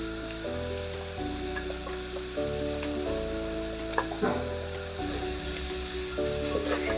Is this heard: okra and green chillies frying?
yes